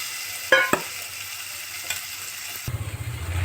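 Pasta stirred and frying in a pan, a steady soft sizzle with a couple of sharp clinks of a spoon against the pan near the start and scraping stirs toward the end.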